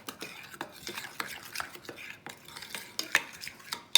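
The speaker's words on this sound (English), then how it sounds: "Just mix it together real good." A spoon stirs a brown sugar and mustard mixture for meatloaf balls, making quick, irregular scraping and clinking strokes against the bowl. The strokes are close and fairly quiet, with no talk.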